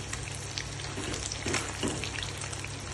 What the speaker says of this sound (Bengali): আমি ভাজতে থাকছি, একটা একটা করে আপনি তৈরি করবেন